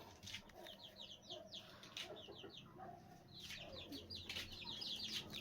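Chicks hatched in a home-made incubator cheep in quick, high, repeated peeps that come in clustered bursts, close by, over a low background hum.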